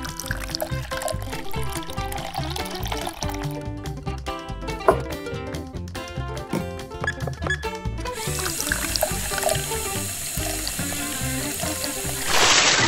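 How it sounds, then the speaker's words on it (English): Water pours steadily and splashes into a Lego Technic tank, a continuous gushing flow that brightens into a harsher rush near the end. "Add water."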